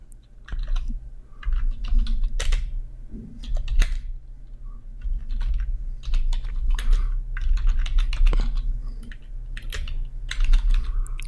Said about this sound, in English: So I'm just going to tab down and type